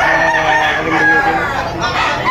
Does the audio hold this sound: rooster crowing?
yes